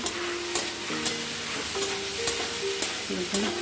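Banana flower sautéed with spices in a pan, a steady close sizzle with repeated stirring scrapes at an even pace and no voices.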